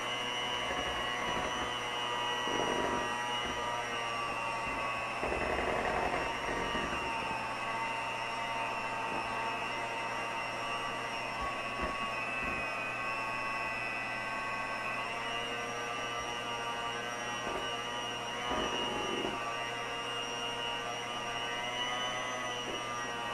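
An electric mixer runs steadily on low speed while making a lemon Bundt cake batter, giving a continuous even motor whine and hum with slight swells, no talking over it.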